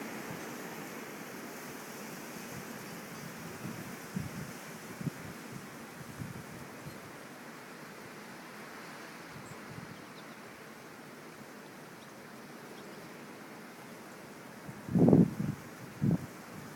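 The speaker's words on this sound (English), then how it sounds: "That's some wind, buddy." Strong wind roars steadily through a snowstorm in Minnesota, a broad continuous rush with gusty swells, followed near the end by a couple of louder close thumps.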